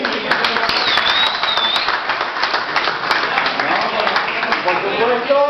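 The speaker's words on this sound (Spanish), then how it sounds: "Un aplauso a todos los jueces que han colaborado con todo el evento" An audience at a Yu-Gi-Oh national championship in Spain applauds steadily for several seconds, a dense even wash of clapping, while someone speaks Spanish over a microphone.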